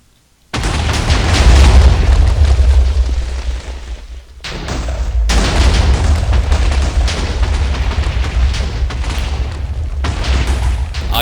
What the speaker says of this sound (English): Obviously, TNT explosions were always laggy in Minecraft